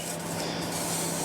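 Aerosol can of rust converter spraying in a continuous steady hiss during interior prep on an MG ZT, a close, even spray sound with no talking.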